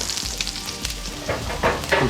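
Octopus coated in a sugary brown-sugar marinade sizzles and fries in plenty of oil on a hot CampChef griddle, a loud continuous close crackle with a few sharper spatter bursts and no talk.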